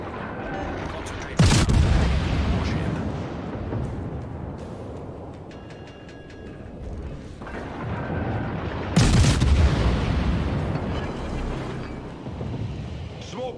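Naval guns of the Royal Navy cruiser Edinburgh firing in World of Warships, two heavy booming salvos with rumbling tails over steady battle ambience and occasional talk.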